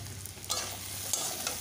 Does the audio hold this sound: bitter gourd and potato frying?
yes